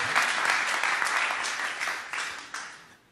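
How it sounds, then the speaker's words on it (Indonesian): A church congregation claps during a worship service, a lively burst of many hands that starts strong, then thins and fades in uneven steps over about three seconds. "Tepuk tangan dulu dong untuk Bapak"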